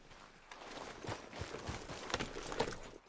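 Horse hooves clip-clopping in Red Dead Redemption 2, a quiet uneven series of soft thuds at walking pace over a faint background, with no talk.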